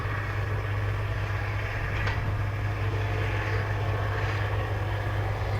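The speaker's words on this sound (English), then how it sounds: "the noise from the tractor itself is kind of overwhelming it" A tractor engine drones in a rural setting, a loud, steady low rumble that fills the whole stretch with no breaks, masking any quieter sounds around it.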